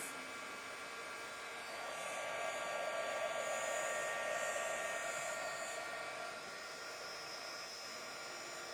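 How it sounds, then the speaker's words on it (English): A heat gun blows steadily to dry paint on an aluminum foil turtle craft, a constant close whirring hiss that swells slightly in the middle and then settles back. "So I use the heat gun to speed up the process."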